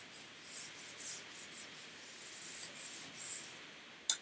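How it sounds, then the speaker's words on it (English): A whiteboard eraser rubs back and forth over writing from a polynomial graphing lesson, giving soft, repeated swishing strokes in quick bursts, quiet and close with no talking. "So let's erase a little bit of this."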